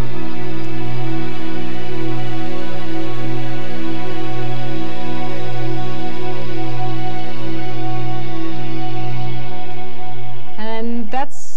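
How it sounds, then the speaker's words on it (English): A Kurzweil K2000 synthesizer plays an ensemble strings sample: a loud, smooth sustained chord holds for about ten seconds before a short run of other notes near the end. "this is just a pretty straight ahead string sound"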